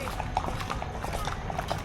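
Horse hooves clip-clop in a quick, steady rhythm close by, alongside low background murmur and ambient noise.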